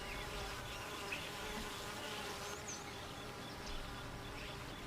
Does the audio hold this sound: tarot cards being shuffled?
no